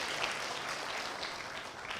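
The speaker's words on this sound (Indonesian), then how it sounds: "Boleh tepuk tangan sekali lagi?" An audience at a stand-up comedy show applauds in a steady, dense wash of clapping from a full room, sustained for the whole moment without talking over it.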